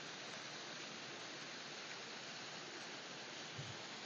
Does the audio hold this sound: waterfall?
yes